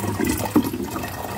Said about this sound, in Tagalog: Ganyan lang ang kalakas yung tubig kasi malayo ang pinanggagalingan.